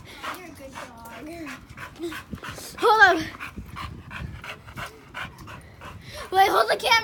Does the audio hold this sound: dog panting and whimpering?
yes